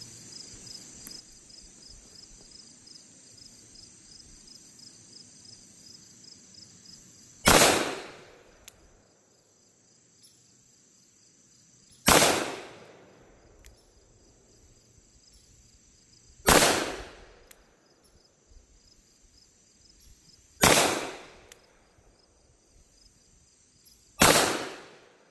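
Five loud, sharp shots from a Taurus Judge Executive 6.5-inch revolver, fired single action, spaced about four seconds apart, each with a short decaying echo over faint insect buzz.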